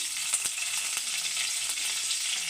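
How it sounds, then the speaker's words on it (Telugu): Cumin seeds and green chilies sizzling in hot oil in a home kitchen pan, a bright continuous crackling hiss heard close, with small sharp pops scattered throughout. "ఆయిల్లో కొద్దిగా జీలకర్ర వేసుకుందాం"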